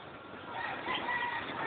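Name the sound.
chicken or rooster crowing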